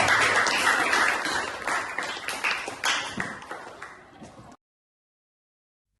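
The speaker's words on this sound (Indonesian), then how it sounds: "tepuk tangan untuk kita" A classroom of students applauds together, a dense burst of clapping that thins into scattered claps over about four seconds before cutting to silence.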